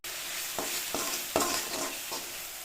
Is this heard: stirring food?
yes